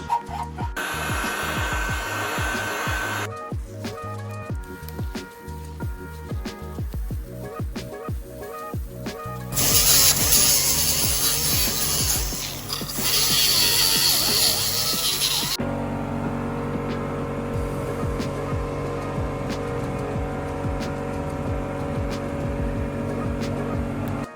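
Angle grinder stripping leftover seam sealer from the body of a Mazda Miata under restoration, a loud continuous whine running for several seconds, preceded by scraping and tapping work sounds.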